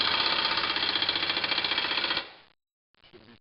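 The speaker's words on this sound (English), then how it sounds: "Using this other nut splitter up here." A hydraulic nut splitter grinds hard against a seized nut, a loud rapid rattling buzz that runs steadily for about two seconds, then cuts off to silence before a brief fainter clatter.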